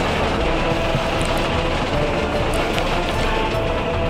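A freight train loaded with 464 tons of steel rumbles past in the Soviet-era city builder Workers & Resources, a loud, steady low roar with faint rhythmic clatter throughout.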